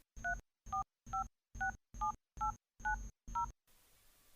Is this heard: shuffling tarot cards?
no